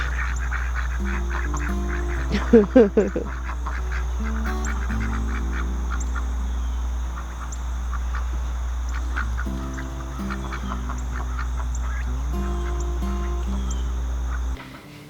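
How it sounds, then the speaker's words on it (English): Quacking from a young tufted duck, a brief loud burst of calls early on, then softer scattered calls over a steady low hum and other fowl noises on a homestead. "That one's a tufted duck."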